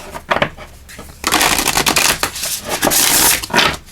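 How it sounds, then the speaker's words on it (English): A deck of oracle cards is shuffled by hand during a pick-a-card reading, giving a dry, papery rustling and riffling that comes in uneven bursts and then runs continuously for several seconds, with no talking. "Let's just shuffle these up"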